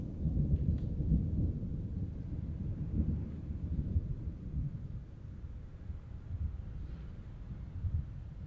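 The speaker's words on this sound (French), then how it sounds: "vous pourrez percevoir la manière dont l'orage se déplace dans l'espace à 360 degrés" A thunderstorm at the end of a heatwave, heard as continuous low rumbling and rolling thunder with faint wind, steady and moderately loud throughout with no talk.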